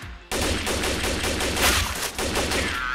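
Gunfire in the CS:GO video game during a 1v1 match with AWP and rifles: loud, rapid bursts of shots follow a brief quiet start and hammer on almost without pause.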